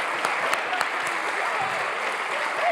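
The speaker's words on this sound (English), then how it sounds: "Big round of applause, Evan Massoud." An awards-night audience claps in a full, steady round of applause, close and lively, with a few sharper individual claps and faint voices mixed underneath.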